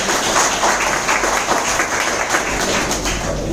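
Loud, dense applause fills a hotel meeting room during a business gathering in Maninagar, a continuous roar of many hands clapping close by with no talk over it.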